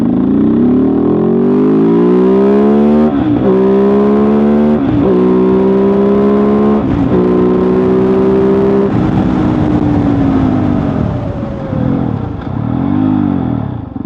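A Kove 450 Rally single-cylinder motorcycle engine revving hard while riding, climbing in pitch through several gears with brief shift dips, then falling off and rising again, loud and close throughout with wind noise.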